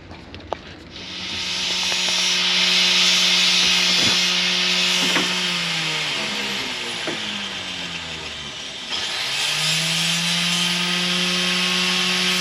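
A drill whines steadily with shifting pitch as it bites into a solar panel, running continuously for several seconds, close and fairly loud.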